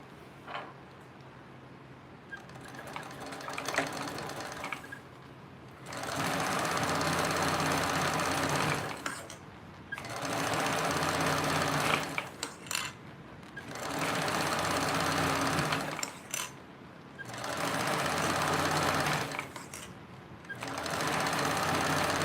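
Close, steady sewing machine stitching runs in several bursts separated by short pauses, the motor hum and needle chatter fairly quiet and unaccompanied by talk.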